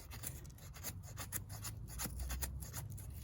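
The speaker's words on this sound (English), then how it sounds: "if you're using these sorts of knives for carving, whittling, this will give you an idea of how these work on wood" A vintage Colonial Stockman pocket knife shaves softwood in a rapid series of short, dry scraping strokes, fairly close and steady, with no talking.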